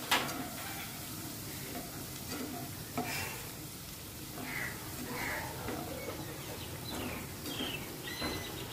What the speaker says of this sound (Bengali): তো পেঁয়াজটাকে খুব ভালো করে ভাজবো আমি, একদম সুন্দর গন্ধ বেরোবে আর লাল লাল হয়ে যাবে।